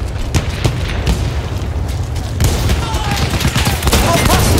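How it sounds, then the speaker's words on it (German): Grenade blasts and rapid gunfire in the Battlefield 1 video game: loud repeated booms and cracking shots in close succession, growing denser toward the end. "Ich werfe eine Granate!"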